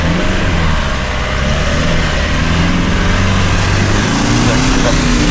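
A Toyota Fortuner 2021 with its engine revving steadily in first gear in manual mode, a loud continuous mid-pitched drone holding throughout without pause.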